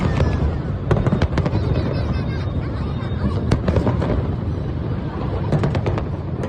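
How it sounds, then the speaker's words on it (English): Buildings being detonated simultaneously in a demolition, heard as a dense, continuous rumble peppered with sharp cracking bangs, loud throughout with no voices. "A series of buildings were detonated simultaneously. The explosions were loud."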